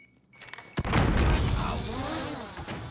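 A grenade goes off in Call of Duty: Modern Warfare, a sharp thump followed by a heavy, rumbling boom that slowly fades, with faint voices underneath.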